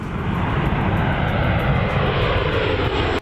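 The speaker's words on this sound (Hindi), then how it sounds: "इस दौरान वहां एक C-130J सुपर हर्कुलिस विमान भी उड़ान भरता नजर आया।" A C-130J Super Hercules military transport aircraft flies past, its engines giving a loud, steady, broadband roar that holds constant for about three seconds before cutting off abruptly, with no voices.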